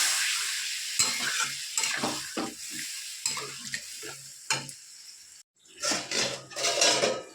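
Potatoes and cauliflower sautéing in a pan with ginger, garlic, onion and tomato paste and spices, stirred with a utensil that scrapes and clinks against the pan in repeated bursts over a steady sizzle, with a brief pause near the end.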